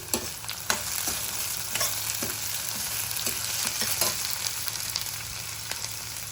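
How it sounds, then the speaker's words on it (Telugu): Onions, carrot and tomato frying in a pan for upma, a steady soft sizzle with scattered stirring scrapes and clicks throughout, fairly quiet and without speech. "ఆనియన్స్ కూడా ఫ్రై అయ్యాక క్యారెట్ టమాటా వేసుకుందాం"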